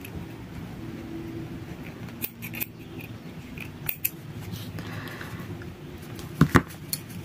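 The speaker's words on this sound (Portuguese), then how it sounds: "aqui eu já posso cortar o fio" Scissors snip thread during hand stitching of a sneaker, several sharp close clicks scattered over a quiet rustling background, with a louder double snip near the end.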